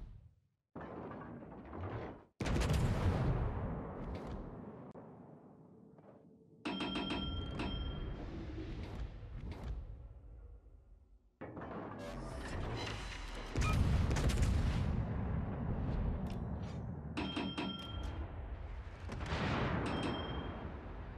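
Naval gunfire and artillery from World of Warships pound in heavy, sustained booming volleys. Loud blasts follow in dense bursts, with brief gaps of quiet between them.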